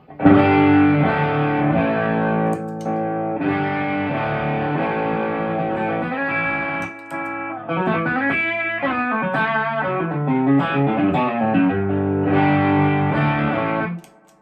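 Electric guitar through an overdrive pedal plays chords and riffs with a gritty, distorted tone, several phrases separated by short pauses, no voices.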